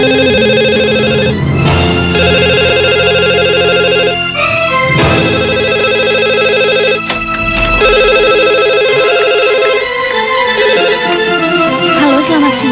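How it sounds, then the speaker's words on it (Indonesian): A telephone rings loudly and continuously with a repeating melodic ringtone in an Indonesian TV drama, sounding alone with no voices. "Mas Bayu, ada telepon"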